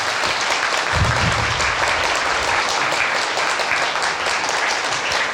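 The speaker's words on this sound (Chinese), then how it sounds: "大家给校长、主任、师长们一点掌声" An audience at a school character-education award ceremony applauds the principals, directors and teachers, a sustained, even wash of clapping that carries on unbroken from start to finish.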